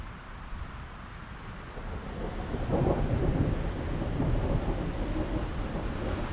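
A thunderstorm on the southern African coast, with low rolling thunder and gusting wind roaring steadily across the microphone, a dense and continuous rumble with no voices.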